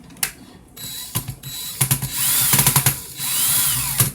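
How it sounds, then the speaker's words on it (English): Power drill spinning 42 gauge wire in its chuck, a series of loud short whirring bursts with brief pauses between them, close up and with no talking. "So I'm going to stick that in my drill chuck."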